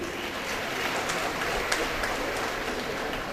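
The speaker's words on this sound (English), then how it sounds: "again she needs a clap" Dense applause from an audience at a college diamond jubilee valediction ceremony, clapping for an honoree; a steady, even wash of many hands throughout, with a faint voice underneath.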